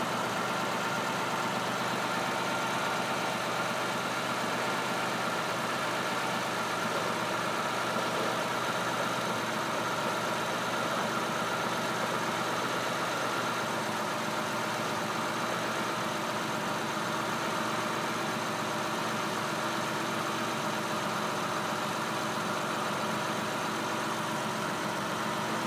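A stock 2006 Pontiac G6 with a 3.5-liter engine idles steadily, a continuous mid-pitched hum with even, unchanging loudness from start to finish and no voices.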